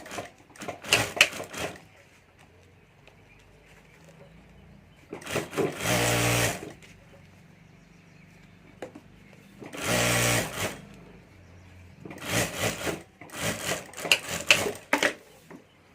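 A domestic sewing machine stitches a zip and lining onto a handmade handbag in several bursts of rapid, close mechanical whirring, separated by quiet pauses.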